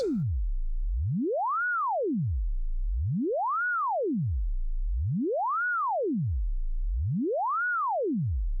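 A pure synth tone sweeps up and down in pitch in a slow, regular wave, four smooth rises and falls, steady and alone.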